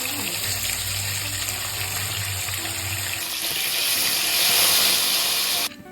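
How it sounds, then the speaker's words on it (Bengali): Pabda fish frying in hot mustard oil, a steady broadband sizzle and hiss that swells louder near the end before dropping off abruptly. "গরম হয়ে গেছে, আমি এখন মাছগুলোকে ভেজে নেব।"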